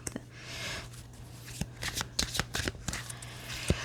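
A deck of cards is shuffled up close for a card reading, with soft riffling and sliding bursts that grow busier toward the end, with no voices.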